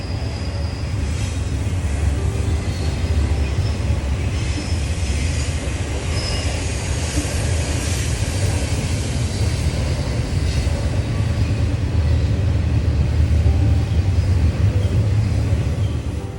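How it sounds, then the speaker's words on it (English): A train rumbles past close by at 3 a.m. along the Appalachian Trail, a steady heavy roar of wheels on track with faint metallic squeals riding on top. "wake-up call"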